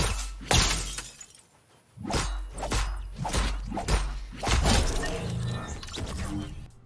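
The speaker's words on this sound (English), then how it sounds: "this is what it sounds like when hitting opponents" In Fortnite, the Diamond Jack pickaxe strikes opponents in a series of sharp, loud impacts, each with a glassy, shattering crack and a whooshing swing, coming in irregular bursts.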